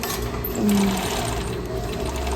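An overlock sewing machine runs close and steadily as it finishes the edge of a microfiber lining for a DIY bikini, giving a continuous mechanical whir with a slight surge partway through.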